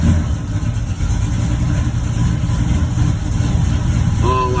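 An LS-swapped Impala SS idles on a cold day, its engine giving a steady, loud, low rumble that holds evenly throughout.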